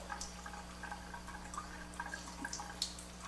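Water runs in a gentle, easy flow from the tap of a Jupiter Melody JP-104 water ionizer, a faint steady trickle with small drips over a low electrical hum.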